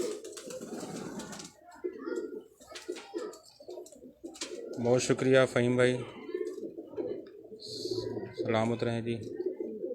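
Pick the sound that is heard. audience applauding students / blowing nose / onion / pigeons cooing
pigeons cooing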